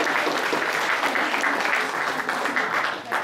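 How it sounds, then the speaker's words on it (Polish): Steady, dense audience applause for a presenter at a Polish stage event, loud and even throughout with no pause, easing slightly near the end. "Proszę o ogromne brawa dla Wiktorii."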